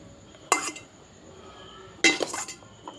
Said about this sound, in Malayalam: ചട്ടിയിൽ കുഴച്ച് തിന്നാം